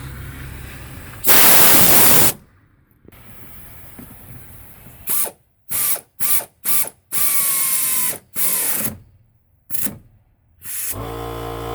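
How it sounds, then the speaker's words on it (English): A ratchet tightening the top strut bolts on a 2004 Honda Pilot during a front strut replacement, loud bursts of rapid clicking separated by pauses, close up with a few short quick runs of clicks. "Now we're going to lock down the top strut bolts."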